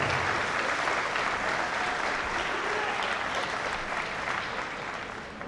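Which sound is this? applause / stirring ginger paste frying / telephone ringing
applause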